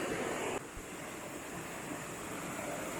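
Shower water running outdoors in a fairly hidden spot in northern Thailand, a steady broadband rush that sounds close and loud, easing slightly after a brief splash early on; no talking.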